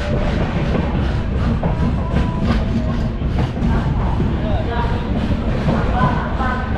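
An express train pulls into Beas Junction railway station, its wheels and carriages giving a steady, loud rumble with faint clattering throughout.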